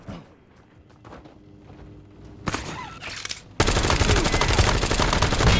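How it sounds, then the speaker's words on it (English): A close gunfight in Call of Duty Black Ops Royale, with a burst of nearby footsteps and scattered shots giving way to loud, sustained automatic gunfire that fills the last stretch. "Ooh, that was a close gunfight."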